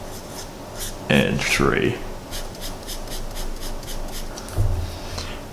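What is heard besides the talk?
writing coordinates on a board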